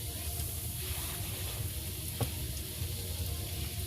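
Batter-dipped food frying on low flame in a pan in a village kitchen, a soft, steady low sizzle with faint crackles, heard alone without talk.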